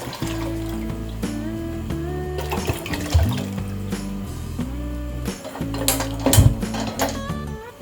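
Water being poured into a second cooking pan for boiling soya chunks in a kitchen, a steady splashing stream with metallic clinks of the pan, fairly close and loud, with no talking.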